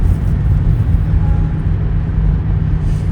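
Road traffic in Scotland makes a steady, fairly loud low rumble of passing vehicles that continues without a break. No one speaks.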